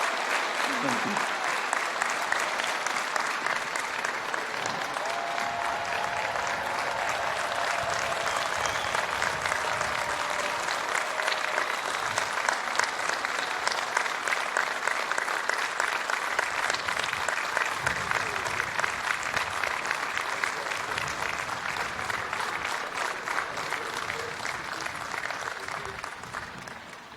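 At a university commencement ceremony, a large audience breaks into sustained loud applause with some cheering, steady clapping filling the hall for nearly half a minute before tapering.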